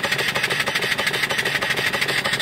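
A small model steam engine with a flyball governor, 2-inch bore and 2.5-inch stroke, runs steadily at close range. It gives an even, rapid, rhythmic chuffing and mechanical clatter with no talking.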